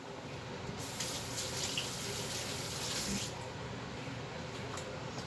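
Hot water gushes steadily from a kitchen tap for a couple of seconds, a bright hissing stream close by that then cuts off, leaving a quiet room hum.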